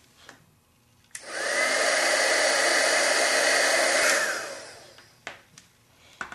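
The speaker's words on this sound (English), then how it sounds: "I need to heat emboss this powder until it melts" A heat embossing tool blows steadily while melting embossing powder on a handmade Christmas card. It makes a loud, even fan-like roar that ramps up, holds for about three seconds and winds down, with small clicks before and after.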